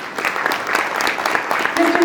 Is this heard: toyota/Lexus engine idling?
no